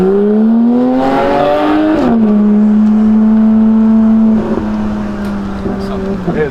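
A green GT3 sports car's engine revs up loudly, drops into a steady high drone, then eases off. The engine is close and fills the scene.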